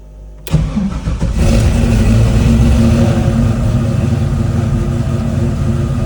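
A cold car engine cranks and catches about half a second in, then settles into a loud, steady, slightly uneven rough idle that fills the rest of the clip close to the microphone, with no talk.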